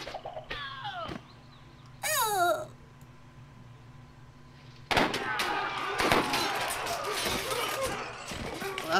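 Cannons firing a ranged attack in Sid Meier's Civilization V, with sharp booming shots and bursts of crashing impacts against a ship, some brief tonal game sounds early on and a voice heard talking faintly.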